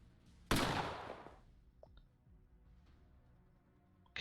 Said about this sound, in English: Alright, so we're going to shoot him.